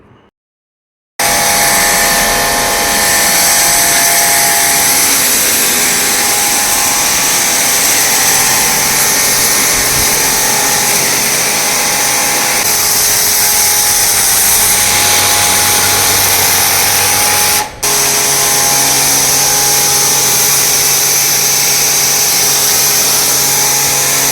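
An induction-motor car washer for home use, a pressure washer fitted with a foam bottle on its gun, runs with a steady loud motor hum and spray hiss for over twenty seconds after a brief silence, with one short dip near the end.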